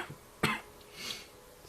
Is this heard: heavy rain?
no